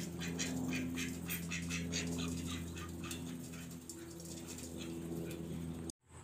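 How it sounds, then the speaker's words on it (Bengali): Ducks quack repeatedly in a rural yard around midday, a busy overlapping chorus of calls at moderate distance, with a faint hum beneath; it cuts off abruptly at the end. "অনেকক্ষণ দেরি করার পরে এখানে কিন্তু হাঁসগুলো চলে এসেছে"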